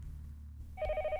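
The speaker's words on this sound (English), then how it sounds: "a shrill ringing fills the house" A house phone in the visual novel Saya no Uta begins ringing partway through, a shrill, steady electronic ring that comes in loud and sharp after a quiet moment.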